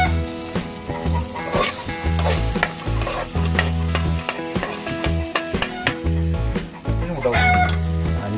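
Egg sizzles and spatters in hot oil while being stirred for egg Maggi noodles, with steady loud frying crackle broken by repeated scraping knocks of a spoon against the pan.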